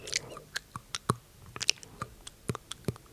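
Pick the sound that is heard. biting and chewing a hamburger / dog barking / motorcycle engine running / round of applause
biting and chewing a hamburger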